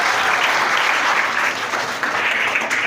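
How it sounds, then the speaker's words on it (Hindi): A classroom full of students claps for a classmate during a Class 9 chemistry lesson. The applause is steady, dense and continuous throughout, with no voices standing out. "इसके लिए क्लैपिंग कर दो"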